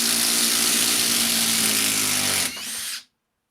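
A Makita 18-volt cordless impact driver whirs steadily at full speed, close and loud, then drops in pitch briefly before stopping abruptly.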